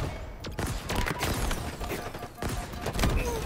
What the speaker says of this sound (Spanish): Esta pistola me gusta cuando logro pegar los disparos.